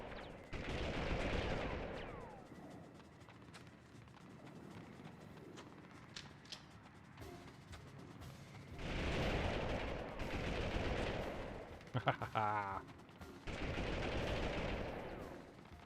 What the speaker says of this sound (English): Someone is already firing at me.